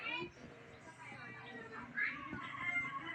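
Cats feeding at a homemade cat feeder give out high, wavering meows at close range, mixed with a speaking voice and small background noises.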